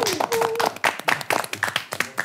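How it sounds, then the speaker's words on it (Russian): A studio audience applauds in a short burst of scattered clapping, moderately loud and close, with a voice briefly heard at the start. "Давайте поддержим аплодисментами."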